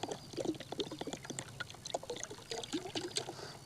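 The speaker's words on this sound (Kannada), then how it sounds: "ನೋಡ್ರಿ ಎಣ್ಣೆ ಹಾಕ್ಯನಕ್ಕೆ ಕುಂತೀವಿ ನಾವು" Liquid liver tonic for sheep being poured from a container, a faint close trickling and splashing with small knocks and clatters, quiet throughout.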